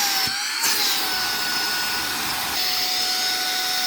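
A Saker mini vacuum cleaner running in blower mode, a loud steady high-pitched motor whine with airy rushing noise and a brief pitch shift partway through, with no voices.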